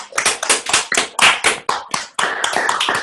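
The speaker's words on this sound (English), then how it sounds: "round of applause for everyone" A round of applause on a morning motivational call, loud, close, rhythmic clapping in quick bursts, a few hands striking in a steady beat before merging into a fuller, continuous clap.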